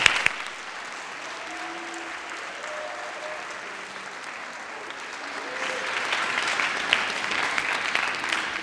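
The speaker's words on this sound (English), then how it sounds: "Let's give a big round of applause to your parents." Steady applause from a commencement audience honouring graduates' parents, a dense, even wash of clapping that swells slightly louder in the final seconds, heard at a moderate distance.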